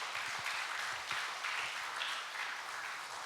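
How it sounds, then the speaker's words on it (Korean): A church congregation at a Sunday worship service applauds steadily for a few seconds, a dense, even wash of many hands clapping with no voices on top. "크게 박수로 찬양하시겠습니다"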